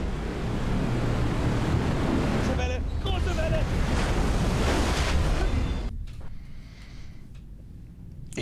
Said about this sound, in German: Ich würde sagen, sehr große Welle.